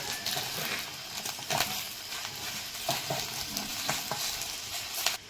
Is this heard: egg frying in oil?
yes